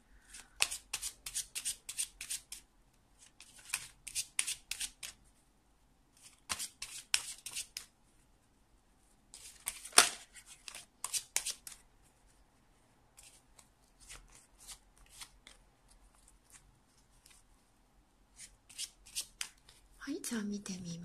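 Lenormand fortune-telling cards are shuffled by hand in quick riffling bursts, soft crisp flutters repeating with quiet pauses, close and faint.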